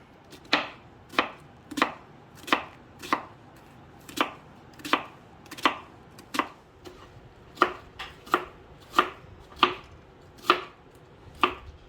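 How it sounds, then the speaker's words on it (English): A knife chopping a quarter of a red onion and two cloves of garlic on a cutting board: about twenty crisp, evenly spaced close chops at a steady rhythm, with no one speaking. "So I'm going to cut up a quarter of a red onion and 2 cloves of garlic."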